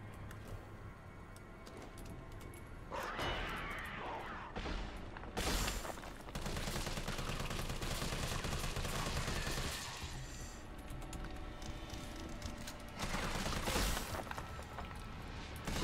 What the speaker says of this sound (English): you're shooting a zombie